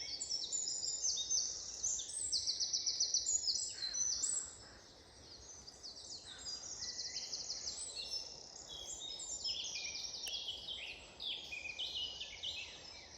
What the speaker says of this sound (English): Listen to the bird song though, just listen for a second.